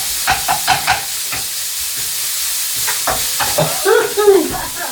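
Minced pork being stir-fried in a pan for a Thai aubergine, basil and chili paste dish: a few quick spatula taps, then a steady sizzle with scattered scraping strokes that grow busier toward the end.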